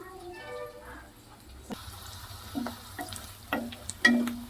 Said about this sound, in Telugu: చక్కగా ఫ్రై లాగా అవుతుంది ఇంకా గోల్డెన్ కలర్ వచ్చేంత వరకు వేయించుకుంటే ఈ కరివేపాకు కూడా చక్కగా వేగిపోద్దండి